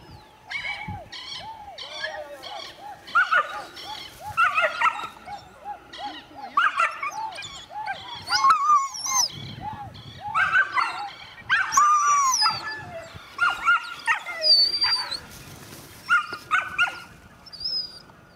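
Several greyhounds barking and yelping in bursts during a hare hunt, mixed with whining and howl-like cries, fairly close and lively, with occasional voices among them.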